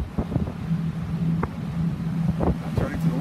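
A quiet boat engine hums steadily at low pitch under wind noise, with a few faint knocks and clicks as the boat eases forward at a lakeside landing pontoon.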